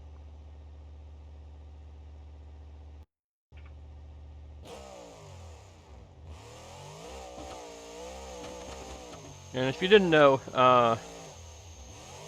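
A monster truck with a turbocharger in BeamNG.drive idles low, then revs up with a rising, wavering engine note and two louder bursts near the end, while someone talks over it.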